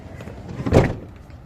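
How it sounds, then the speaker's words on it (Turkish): A car door closing with a single muffled thud that swells and fades within a second, heard alone against quiet background hiss. "Kapı kapandı."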